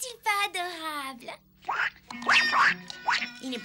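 A cartoon duckling quacks in short, nasal bursts, close and loud, with a voice-like squawking quality, from a Smurfs cartoon.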